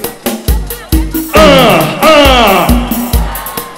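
Crowd at a live show screaming and whooping in loud swelling bursts, with rhythmic thumping music pulsing underneath throughout.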